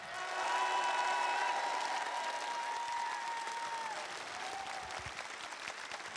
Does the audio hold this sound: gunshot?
no